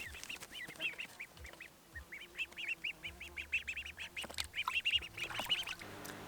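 A group of Pekin ducklings on a rural homestead quack and peep in rapid, overlapping bursts, close by and fairly loud, with no talking.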